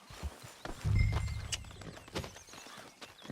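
Horse hooves clip-clop in Red Dead Redemption 2, a run of irregular thudding steps at close range with a heavier low rumble partway through and no voices over them.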